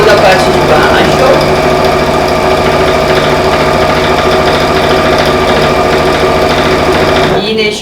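A sewing machine stitches along the bottom of the main fabric of a pleated school pencil case, giving a loud, close, steady rapid whir that runs unbroken for about seven seconds before stopping.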